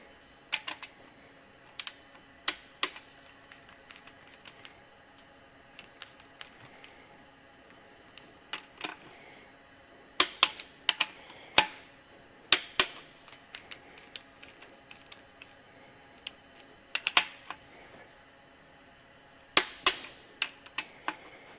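A torque wrench clicks while engine rods are tightened to 100 foot-pounds, giving sharp, close clicks that come singly and in quick pairs or clusters, spaced by quiet pauses and ratcheting.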